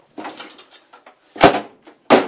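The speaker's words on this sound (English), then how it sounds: "this closes down here for acting as a door" A cockpit door aboard a Short Sunderland flying boat pulls closed with two solid thuds, one mid-clip and one at the end, after a few lighter knocks and rattles, close and fairly loud with no talk.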